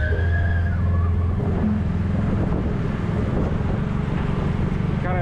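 Tuk-tuk rolling through the streets of Vientiane, Laos, its engine droning continuously under heavy wind buffeting on the microphone, with traffic noise around and a few shifts in engine pitch.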